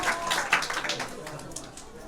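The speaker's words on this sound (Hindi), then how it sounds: "जोरदार तालियां इसके लिए" Audience clapping at a school open day, a burst of scattered hand claps with some crowd noise and voices mixed in, loudest at the start and easing off toward the end.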